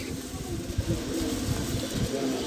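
Pigeons in a loft give low, soft cooing against a steady background murmur, with repeated throaty coos throughout.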